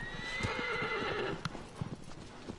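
Agro the horse gallops in Shadow of the Colossus, with a loud drawn-out whinny at the start over quick, rhythmic hoofbeats that carry on alone after the neigh fades.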